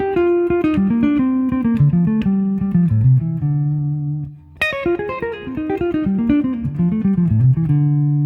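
Guitar plays a short melodic phrase of plucked notes that steps down in pitch, pauses briefly, then repeats with the same intervals, close and clear, with the last notes ringing out.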